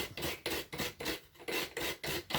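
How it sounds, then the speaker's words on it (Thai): A coconut being grated with a hand coconut grater to make Thai steamed banana-leaf rice cakes, giving a loud, close rasping scrape repeated in a steady rhythm of about four strokes per second, with no talk. "วันนี้มาขูดมะพร้าว ขูดมะพร้าวทำขนมข้าวตอมมัดนะจ๊ะ"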